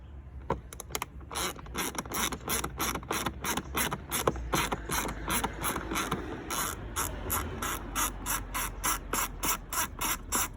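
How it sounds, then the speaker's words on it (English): Eight T25 Torx screws are backed out of a car engine's air filter box cover, a driver ratcheting and clicking in a loud, steady, close rhythm with brief pauses between screws. "T25 torque screws, and there are 8 of them."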